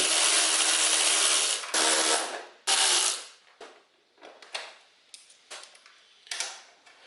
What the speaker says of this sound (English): Go ahead and loosen the 5 bolts holding the tail section to the frame.